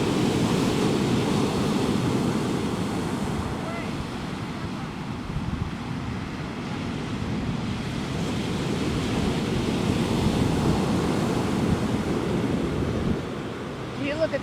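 Ocean waves break continuously on a Florida beach, a loud, steady roar of surf mixed with gusty wind buffeting the microphone.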